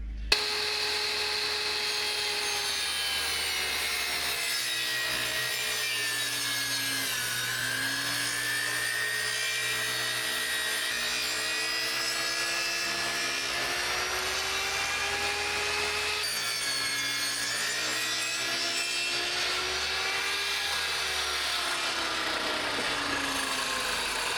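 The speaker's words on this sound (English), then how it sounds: "So I move it over to the table saw with my fence." A table saw rips boards lengthwise against its fence to a 3-inch width, a steady loud whining blade drone with shifting pitch as the wood feeds through, running continuously without speech.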